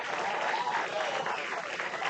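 Baseball fans giving a standing ovation for the Post 22 Hardhats at a tournament game, a sustained wash of applause and crowd noise heard from a distance, steady throughout with faint voices mixed in.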